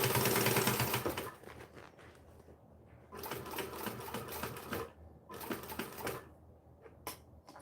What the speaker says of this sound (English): We're also going to back stitch over the original stitching to make sure that we don't have that problem again.